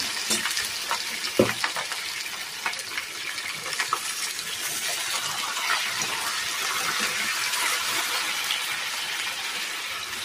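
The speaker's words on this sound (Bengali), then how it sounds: "আমি মাংসটা একটু ভাজা করে নেব" Meat for Hyderabadi biryani, without turmeric, sizzles steadily in a hot pan, a continuous frying hiss with occasional clinks of stirring.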